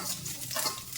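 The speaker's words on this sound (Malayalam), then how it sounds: "ഇനി തേങ്ങാക്കൊത്ത് ഇട്ട് കൊടുക്കാം" Coconut pieces hit hot coconut oil with popped mustard seeds, giving a bright, close sizzle and a brief stirring scrape in one short burst, with no talk.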